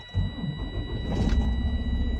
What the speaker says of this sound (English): Put the key back in, start your engine up.